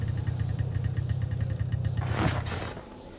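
A car engine idling in the video game Kona, a steady low rumble that runs evenly and close, then a short whooshing swell before it fades slightly at the end.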